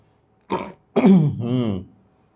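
A short cough followed by a longer, raspy throat clearing, close and loud against a silent background.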